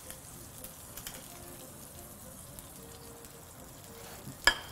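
Lamb steaks cooking in a pan give a low, steady sizzle throughout, quiet and even, with one sharp clatter just before the end.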